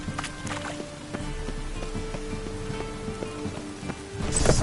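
Rain falls steadily in The Witcher 3: Wild Hunt, a soft continuous patter with faint game ambience and occasional clicks, growing louder toward the end.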